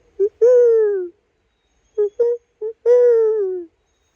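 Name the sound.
human imitating barred owl call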